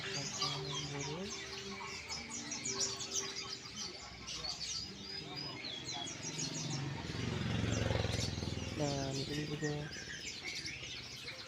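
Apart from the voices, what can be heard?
birds chirping at a bird market in Malang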